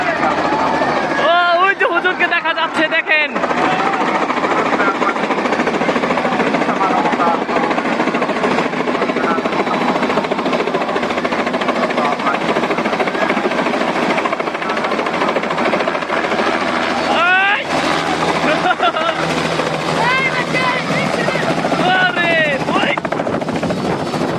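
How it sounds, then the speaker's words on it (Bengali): A helicopter at a crowded outdoor gathering, its loud continuous rotor and engine drone filling the whole stretch, close and steady, with excited people talking and calling out over it. "জীবনের প্রথম হেলিকপ্টার দেখতাছি সরাসরি"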